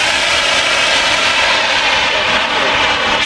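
A CO2 fire extinguisher discharges outdoors during a fire safety training session at an industrial site, a loud continuous rushing hiss that holds steady for several seconds with no speech over it.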